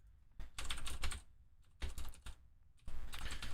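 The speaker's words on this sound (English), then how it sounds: "let me just type it in here" Computer keyboard typing, with three bursts of rapid key clicks separated by short pauses, close and clear with no talking.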